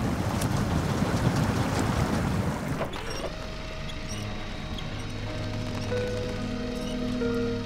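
A truck wades through deep water in the video game SnowRunner, with loud sloshing and churning that fades after a few seconds, leaving a steady engine drone and tonal hum.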